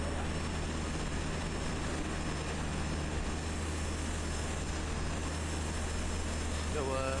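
Steady droning hum of an F4F-4 Wildcat's propeller engine in a flight simulator game, held at low power, continuous and fairly loud, with someone talking over it.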